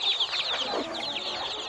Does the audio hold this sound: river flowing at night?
no